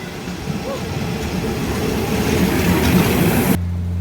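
A train at Ayutthaya station in Thailand rumbles steadily with a dense low roar that swells slightly, then cuts to a quieter steady hum near the end.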